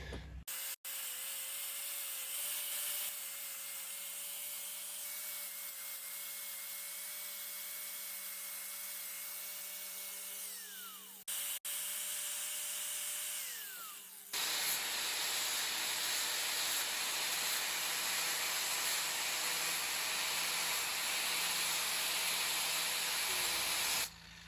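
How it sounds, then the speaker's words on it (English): An angle grinder carves the corners of a red cedar planter box with a steady, close whining hiss. It pauses briefly partway, then cuts in again with a harsher, louder grind. "I'm pulling out the grinder. I'm gonna carve these corners."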